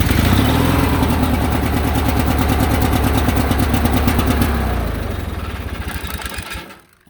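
An old tractor engine, started after sitting all winter, runs loud and close with a rapid regular chugging beat that fades and slows toward the end as it shuts down.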